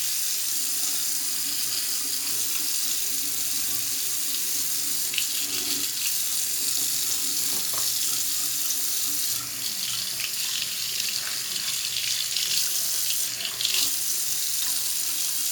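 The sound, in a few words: water running from a faucet while washing hands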